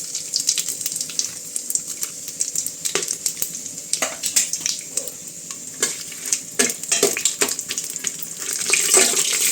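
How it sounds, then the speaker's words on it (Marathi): Whole spices and mustard seeds fry in hot oil, crackling and popping in rapid irregular bursts over a steady sizzle, close to the pan with occasional stirring and no talk. "त्यामध्ये हे जे खडे मसाले घेतलेत आपण ते सगळे टाकून द्यायचे ते म्हणजे छान असे तळून घ्यायचे आपल्याला"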